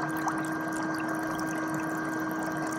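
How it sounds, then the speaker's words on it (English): Foot spa bubbling and pumping water during a bearded dragon's bath, a steady close gurgling hum with a constant tonal drone and no voices. "So this is bath time in the foot spa."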